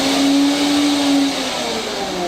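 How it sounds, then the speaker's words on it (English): A food processor or high-speed blender whirs steadily as it purees homemade hummus, a loud continuous motor drone with a sustained hum that eases slightly toward the end, with no talking. "If you have a food processor or like a Vitamix or something."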